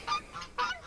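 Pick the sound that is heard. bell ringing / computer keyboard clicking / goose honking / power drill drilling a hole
goose honking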